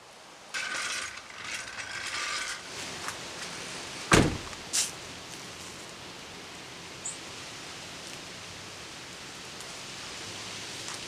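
A jack is ratcheted to raise a truck tire, giving a short run of metallic clicks followed by a sharp clank and a second knock, close against a steady outdoor background hiss.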